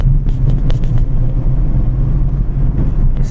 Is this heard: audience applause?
no